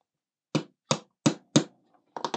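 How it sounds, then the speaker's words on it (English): Four sharp, evenly spaced hammer taps on a metal model-kit part being fitted, then a quick burst of three more strikes, close and distinct in a quiet room. "Needed to put the hammer in for that one."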